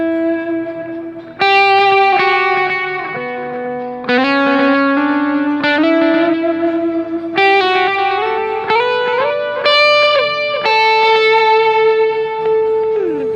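Electric guitar through a Line 6 POD Go or Neural DSP Quad Cortex playing a melodic line of sustained notes, soaked in vintage digital delay and reverb so each phrase trails off into repeats and wash.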